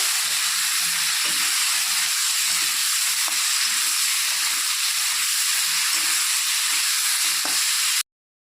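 Potatoes and pointed gourd fry in oil with a loud, continuous sizzle that holds steady throughout. Faint stirring knocks sound underneath, with no talk, and the sound cuts off abruptly at the end.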